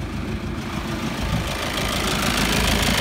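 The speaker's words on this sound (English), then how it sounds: "I'm going to start the engine up and I'm going to put the air conditioning on." A diesel car with 320,000 miles, a blocked DPF and overheating trouble idles with the air conditioning on, giving a steady loud engine drone with cooling-fan rush throughout, heard close up with no talking.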